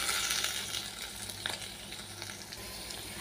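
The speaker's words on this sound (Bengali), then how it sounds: "আলুটা সুন্দর লাল লাল করে গ্যাসের ফ্লেমটা মিডিয়ামে করে ভেজে তুলব" Potato pieces fry in oil over a medium gas flame, giving a continuous bright sizzle and crackle, with a few light clinks of stirring, moderately close and with no talking.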